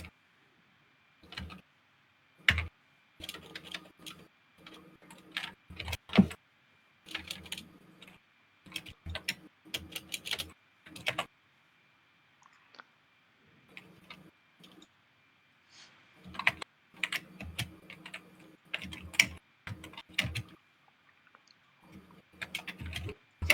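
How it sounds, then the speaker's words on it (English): Someone types on a computer keyboard placed right beside a microphone, close and crisp clicking in irregular bursts with short pauses over a long stretch. "Someone's really typing away."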